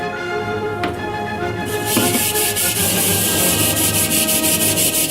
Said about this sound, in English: we continue scrubbing until the dark spots or the residue has been cleared throughout.